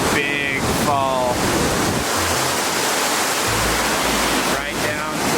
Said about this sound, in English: We have a little waterfall behind us and the big fall